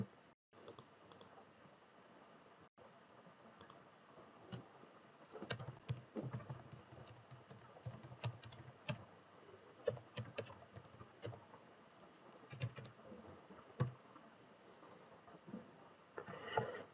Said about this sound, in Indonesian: kita ketik tanda seru, kemudian tekan enter